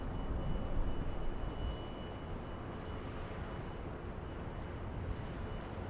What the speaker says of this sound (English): that A380 on final